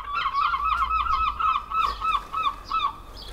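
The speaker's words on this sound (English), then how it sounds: "Seagulls." Seagulls call outdoors in a rapid series of loud, honking cries over a low background rumble. No one speaks.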